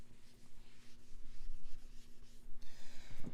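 A board eraser rubs across a board in a guitar theory lesson, a soft continuous scrubbing with uneven strokes over a low steady hum, rising to a brighter swipe near the end.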